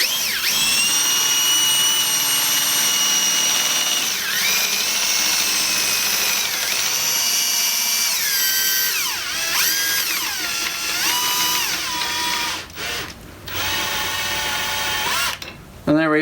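A power drill in high range backs off the screw of a Cobra tube bender used for bicycle framebuilding, with a loud, sustained whine whose pitch rises and falls. It stutters and pauses near the end.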